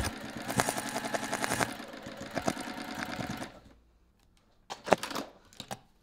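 A sewing machine stitches around the edge of a bag in a close, steady run that stops partway through, followed by a few soft clicks and handling noises. There is no speech.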